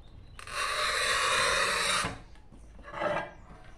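A piece being scored with a cutting tool before breaking it to make a handmade vase: one long, steady rasping stroke lasting about two seconds, then a shorter, fainter scratch, close up with no voices.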